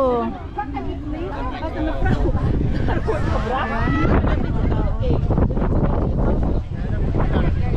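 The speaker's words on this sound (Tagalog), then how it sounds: "Lakas ng hangin eh." Strong wind buffets the microphone at an outdoor Sabado de Gloria rally for Duterte supporters, a steady low rumble under constant crowd chatter and nearby voices talking throughout.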